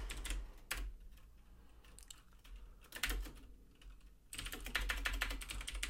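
Fast typing on a computer keyboard while writing code comments in Stata, with clattering bursts of keystrokes broken by short pauses, close and fairly quiet.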